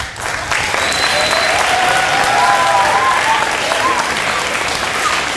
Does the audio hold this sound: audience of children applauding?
yes